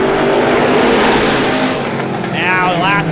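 Strictly Stocks stock cars roar off together at a green-flag start on a short oval, a dense loud wall of engine noise under steady excited commentary.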